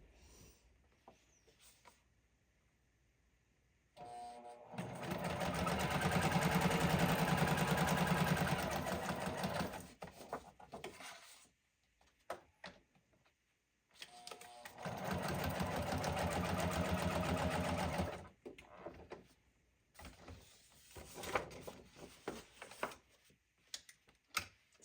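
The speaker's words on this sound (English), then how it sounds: "So when I'm sewing this, I'm just making a wavy line." A sewing machine stitches a wavy line through a hand bound junk journal, running in two long loud bursts separated by quiet pauses, with shorter stop-start runs and small clicks near the end.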